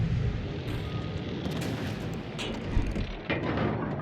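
Heavy ship guns fire in a naval battle in World of Warships Legends, with booming salvos and rumbling blasts over a dense, noisy mix of game sound.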